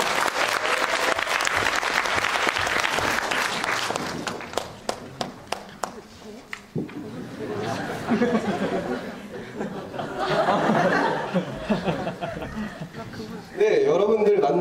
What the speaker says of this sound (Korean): 큰 박수와 함성으로 모셔주시면 감사하겠습니다